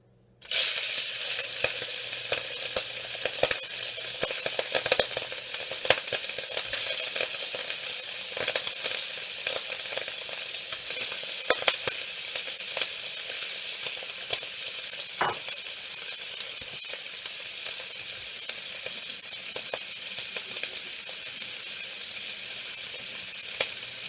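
Earl Campbell sausages sizzling in a hot wok, bursting into a loud, crackling sizzle at the start and holding steady with occasional pops and stirring scrapes.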